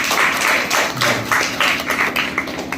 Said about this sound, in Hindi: तो आप सब लोग तालियां बजाइए।